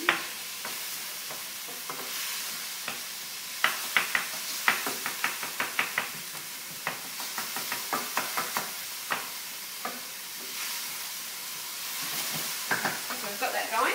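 Garlic fries in a non-stick-free fry pan, a soft steady sizzle punctuated by a run of sharp utensil taps and scrapes against the pan, close and fairly quiet.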